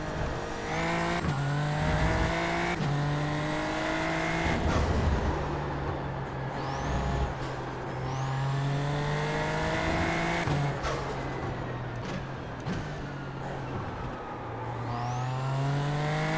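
A Super Formula Lights race car engine in iRacing, revving hard and climbing through gears with sharp shifts, repeated upshift and downshift cycles with brief lifts off the throttle, loud and close throughout.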